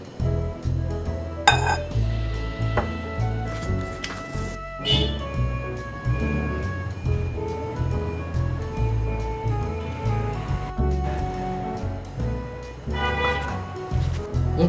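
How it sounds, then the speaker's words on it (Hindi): Bread slices mashed with milk in a bowl, giving repeated clinks and scrapes of a utensil against the dish, steady and close, with kitchen hum beneath. "अब हम इसमें थोड़ा थोड़ा दूध डाल के इसको बिल्कुल मैश कर लेंगे।"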